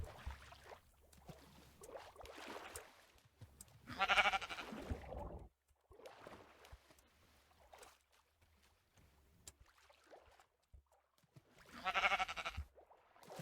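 Sheep in the Minecraft video game bleat in two distinct bursts several seconds apart, with soft water and boat paddling sounds in between, fairly quiet and without talk.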